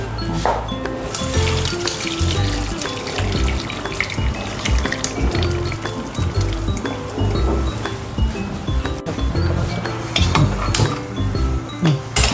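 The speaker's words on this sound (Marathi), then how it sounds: "हे डाळीतलं पाणी काढून, हे डाळीतलं पाणी आहे ना, तर आपण हे सगळं निथळून घेतलं आहे" Water drained off cooked chana dal for puran poli, a continuous splashing pour with scattered clinks of utensils and pot, close up, with no talking.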